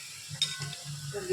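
Chicken pieces for pickle fry gently in oil on a low flame, giving a soft steady sizzle with a few stirring scrapes and a light clink.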